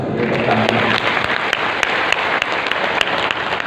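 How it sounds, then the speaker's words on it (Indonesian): A church congregation bursts into applause during a sermon, a dense, sustained clatter of many hands clapping at close range with a few sharper individual claps standing out. "Tepuk tangan bisa"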